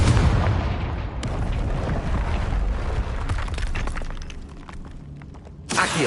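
Confringo explosive fire spell cast in Hogwarts Legacy, a loud booming blast with shattering debris and a rumbling tail, followed by a second sharp impact near the end.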